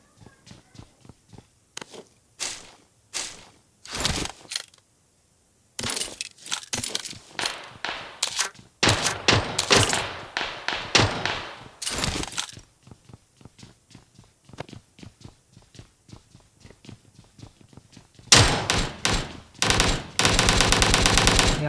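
Video game bots fight nearby in rapid bursts of gunfire, crackling automatic volleys broken by short pauses and a few quieter stretches, the shots sharp and fairly loud with no talk.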